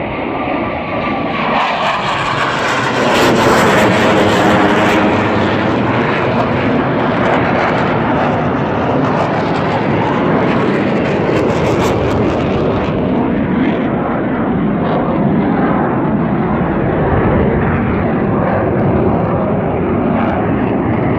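Blue Angels jets flying low over an airfield beside farm fields, a loud continuous roar of jet engines that swells and sweeps in pitch as they pass and split, sustained for twenty seconds.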